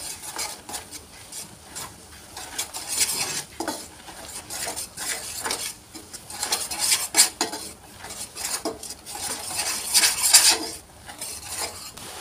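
A utensil stirs and scrapes ground coriander and cumin in a pan, giving repeated metallic clinks and rubbing strokes in an uneven rhythm with a faint sizzle underneath, close and fairly loud, and nobody speaking.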